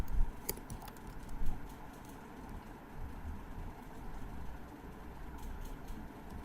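Someone types an email on a computer keyboard, with soft, irregular key taps over a low background hum.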